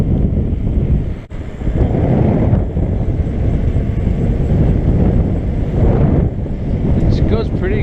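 Steady, loud wind roar buffets the microphone of an e-bike climbing uphill into a headwind, a broad continuous rush with a brief dip partway through and no clear speech.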